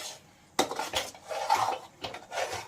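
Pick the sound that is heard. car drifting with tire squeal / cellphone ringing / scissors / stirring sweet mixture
stirring sweet mixture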